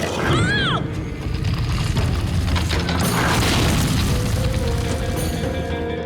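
Cartoon sound effects of thousand-year-old guns firing: loud, continuous booming and crashing blasts with a whistling shot at the start, dense and busy throughout.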